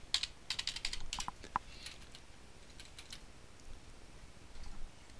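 Rapid keystrokes on a computer keyboard while writing HTML link code, a dense burst of clicks early on, sparser taps after, then a short flurry at the end, close and fairly quiet.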